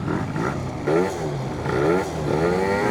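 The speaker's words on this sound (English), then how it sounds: "Ease into the throttle, then power band, a little bit of splutter there" A tuned Yamaha BWS 70 scooter engine with Stage6 parts revs up and down repeatedly while climbing a hill, rising and falling in pitch with a slightly rough, sputtering edge, close and fairly loud.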